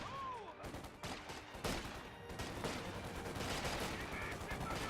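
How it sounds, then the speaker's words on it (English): Rifle volley fire in the strategy game Company of Heroes 2, dense overlapping shots crackling over continuous battle noise, with a faint game voice near the start. "Volley fire!"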